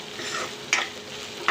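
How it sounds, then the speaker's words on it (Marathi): Onions fry in a little oil in a kadhai with a steady soft sizzle, broken by two sharp scraping stirs of a spoon, close and without talk. "आता हे कांद्यामध्ये आपण तेलामध्ये मस्त असं छान फ्राय करून घेऊया."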